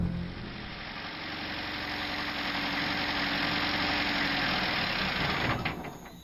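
A car engine idles steadily and close, a dense continuous rumble with a slight rough knock that holds even for about six seconds before easing at the end.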